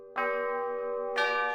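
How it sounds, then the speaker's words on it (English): A school bell in the visual novel Root Double sounds two clear, ringing chime tones about a second apart, each sustaining and fading gently on its own. "the bell rang."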